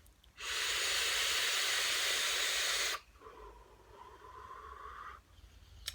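A long, loud airy hiss of vapour being drawn and exhaled from an ACE Tank vape at 30 watts, followed by a softer, steadier breathy exhale.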